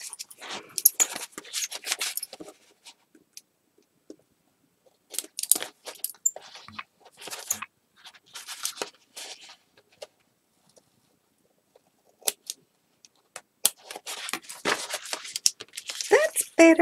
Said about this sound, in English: I might have to cut those down slightly.